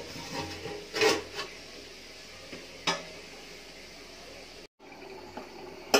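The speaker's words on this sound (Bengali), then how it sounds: "একটু ঢাকনা দিয়ে দিব।" A lid set on a pot of olive pickle after vinegar is added and stirred gives a few soft clinks and knocks over a quiet background, with a sharper clatter near the end.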